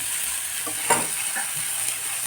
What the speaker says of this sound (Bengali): এবারে ভালো করে ভাজা হবে